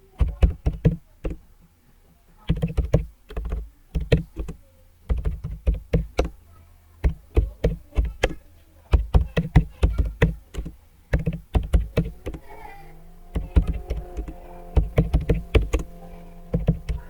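Student names being typed into an Excel spreadsheet on a computer keyboard, close and clicky, in quick bursts of keystrokes separated by short pauses, with no voices.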